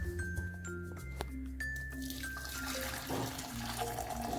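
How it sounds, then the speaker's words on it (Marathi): Boiled moth bean water poured out of a pot into another vessel for a Kolhapuri misal gravy, a steady close splashing trickle with some clinks of metal. "हे पाणी आपण ह्याच्यामध्ये ओतून काढूया"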